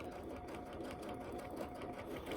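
A sewing machine stitches along the edge of quilt binding tape on a scrap quilt, a close, rapid rhythmic whirring and clatter of the needle that runs steadily.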